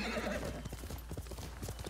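Horse hooves clip-clop in the video game Ghost of Tsushima, a steady run of close hoofbeats with a brief whinny near the start, heard alone without talk.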